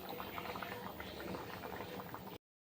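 An egg and potato fritter curry bubbles steadily in a pot, a dense continuous simmering hiss and popping heard close up and alone for a couple of seconds before stopping abruptly.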